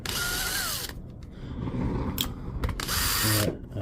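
A cordless power driver whines in two short bursts, close and loud, while removing screws from a Milwaukee M18 grease gun, with quiet rattling handling noise between them.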